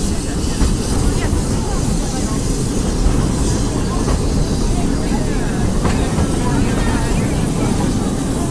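A Big Thunder Mountain mine train ride at Disney World rolls along its track with a steady, loud rumble and faint clattering, continuous throughout with no pauses.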